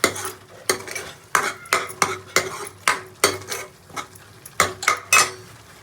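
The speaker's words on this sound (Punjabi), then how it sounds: "ਇੱਧਰ ਮੈਂ ਮੇਰਾ ਮਸਾਲਾ ਉਹ ਮੈਂ ਭੁੰਨ ਰਹੀ ਆ" A spoon or spatula scrapes and clatters around a pan in a rhythmic series of about a dozen strokes while masala roasts with a faint sizzle underneath, close and moderately loud.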